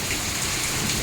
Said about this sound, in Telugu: బ్రహ్మాండంగా పడ్డదండి మా దగ్గర అయితే వాన